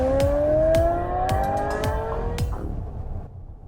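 An ORA Lightning Cat electric car plays a synthetic engine sound when Super Sport mode activates. It is a loud, rising siren-like whine with sharp clicks, and it fades away after a few seconds.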